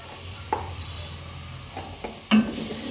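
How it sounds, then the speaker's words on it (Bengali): Spices with cumin and cumin powder for beef bhuna being stirred and fried in a pan, a low steady sizzle with a few distinct scraping clinks of the spoon. "ভালোভাবে নাড়াতে হবে মশলাটা, যাতে সব দিকে মিশ্রণ হয়ে যায়।"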